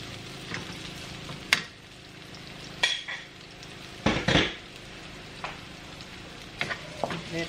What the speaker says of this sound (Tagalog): Heat 3 tablespoons of vegetable oil, then the garlic.